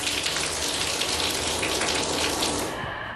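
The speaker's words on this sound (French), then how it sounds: "Alors ça, c'est la pluie, la petite pluie. Là, on est sur la version cascade." Water pours steadily from a shower head, first in fine rain mode and then in cascade mode, a close, continuous hiss and splash that cuts off near the end.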